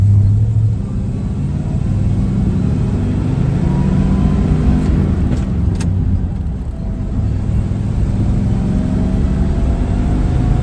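A 1950 Oldsmobile 88 with the 303 Rocket engine and three-speed manual drives along, its engine a loud, steady low rumble under constant road and cabin noise.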